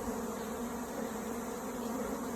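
An Africanized bee swarm being removed in southern Arizona fills the air with a dense, continuous buzzing hum, steady and close throughout, with no voices.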